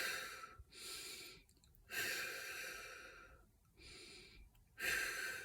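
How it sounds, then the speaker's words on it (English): Slow, deep relaxation breathing: long, airy inhales and exhales alternate with short quiet gaps, close and fairly soft, with no talking. "So you can relax those areas by breathing into them like this."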